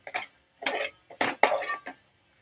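Onion and ginger-garlic paste stirred and roasted in a pan for a veg biryani, a spoon scraping and clinking against the metal in five short close bursts separated by brief pauses.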